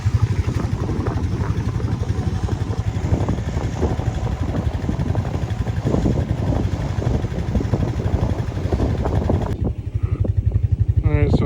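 A Honda engine runs steadily while driving down a farm field road, a continuous loud mechanical drone with a dense low rumble that holds through the clip, with no talk over it.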